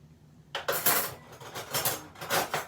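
Spoon clinking against dishes while making Lithuanian pancake batter with flour, a run of bright metallic and ceramic clatters and taps close by, coming in uneven bursts after a quiet start.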